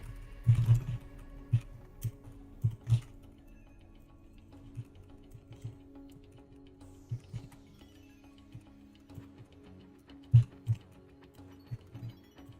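Keystrokes on a computer keyboard while coding in Go, a scattered run of soft, close taps with uneven rhythm and short pauses, plus a few louder clacks, over a quiet room hum.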